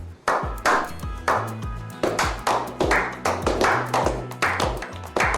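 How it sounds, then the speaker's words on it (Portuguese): Hands clapping in a steady rhythm, about a dozen sharp claps spaced evenly and fairly close, with no voices. "Palmas."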